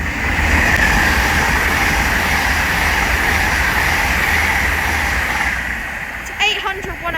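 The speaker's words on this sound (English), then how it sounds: "We're about to have an LNER Zoomer pass by." An LNER Azuma train running from Edinburgh Waverley to London King's Cross rushes past close by with a steady, loud roar that fades near the end. A brief high squeal or horn sounds just afterward.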